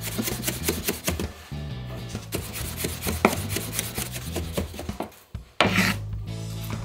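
A kitchen knife chops shiso leaves, stems removed, into a coarse mince on a wooden cutting board, giving a run of quick, close, steady taps with a brief pause near the end, heard alone without talk.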